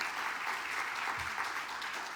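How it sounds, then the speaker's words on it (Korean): A church congregation applauds during a Sunday worship service, a dense, steady wash of many hands clapping throughout, fairly loud and filling the room. "그래갖고 주 앞에 박수 드립시다."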